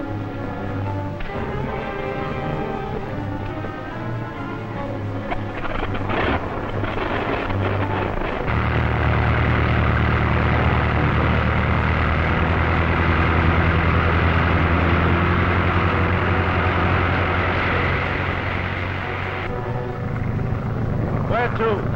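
A two-seater biplane engine drones steadily in flight, a loud low throbbing hum that grows heavier midway through, with voices talking over it.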